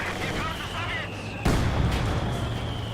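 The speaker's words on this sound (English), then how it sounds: "I hear another Panzerwerfer barrage." In Company of Heroes 2, a Panzerwerfer rocket barrage and mortar fire rumble in continuous battle noise, with a heavy impact arriving midway and a talking voice over the top.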